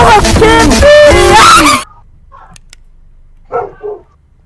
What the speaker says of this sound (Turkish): Lan sizden köpek havladı bir an altıma.